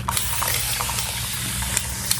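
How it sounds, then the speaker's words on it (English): Water misted from a handheld spray bottle onto hair to dampen it before styling: a few short, soft hissing spritzes close by, with no one talking. "Just spray it."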